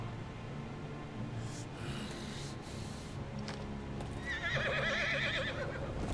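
A horse in the video game Final Fantasy XVI whinnies in a high, wavering neigh near the end, over a steady low background hum and faint hoof-like thuds.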